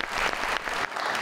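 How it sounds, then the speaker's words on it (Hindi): Studio audience applause on a television talk show, a short burst of dense clapping that stays fairly quiet and even throughout. "तो तालियां तो बनती हैं भाई।"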